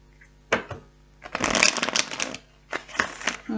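Close-up card shuffling: a short riffle, then a longer rapid flutter of cards, followed by a few quick bursts, with quiet gaps between.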